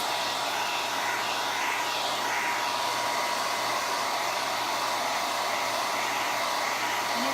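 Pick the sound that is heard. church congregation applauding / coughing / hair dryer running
hair dryer running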